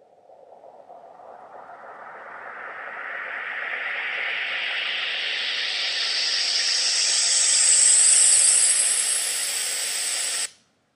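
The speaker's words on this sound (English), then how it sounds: "That's basically your white noise sweep." A synthesized white noise sweep made in GarageBand rises steadily over about ten seconds, the hiss brightening and swelling in loudness before stopping abruptly.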